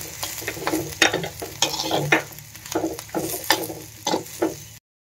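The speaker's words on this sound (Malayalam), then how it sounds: "നല്ലോണം ഇളക്കി കൊടുക്കുക" Green chilli pickle spices with turmeric being stirred in a pan, a steady series of scraping, sizzling strokes at an irregular rhythm, close and moderately loud with no voices.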